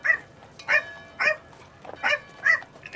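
A Chihuahua barks five times in short, sharp yips spaced irregularly, fairly close and clear with little else around.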